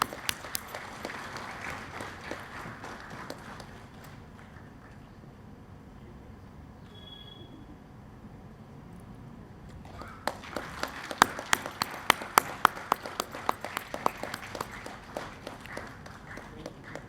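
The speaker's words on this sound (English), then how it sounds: "Please clap." An audience at a college annual week and foundation day celebration claps steadily for the Chief Minister, fades to a lull, then swells again with louder, sharper individual claps standing out over the crowd.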